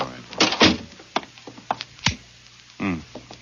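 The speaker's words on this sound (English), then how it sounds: "Well, close the door." Short wooden thunks and knocks of a door being shut in a radio drama, several close sharp hits spaced through the scene with a faint background hum.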